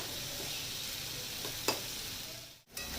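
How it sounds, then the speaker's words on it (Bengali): Ash gourd pieces frying in a pan for an egg dish, a continuous close sizzle with a sharp stirring scrape midway and a brief break near the end. "এবার আমি একটু কিছুক্ষণ কষিয়ে নেবো এটাকে।"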